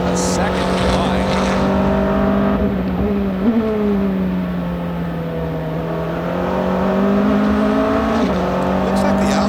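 Sports prototype race cars, including a Porsche and an Audi, at Road America during a 2005 American Le Mans Series race: loud, sustained engine drone that rises and falls through gear changes, under broadcast commentary.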